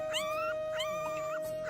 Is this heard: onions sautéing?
no